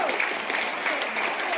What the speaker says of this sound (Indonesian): Boleh tepuk tangan kita semua.